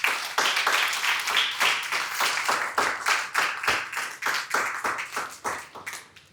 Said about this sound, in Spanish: ¿Cuánto le regalan palmas al Señor?